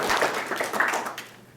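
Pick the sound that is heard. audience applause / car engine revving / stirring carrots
audience applause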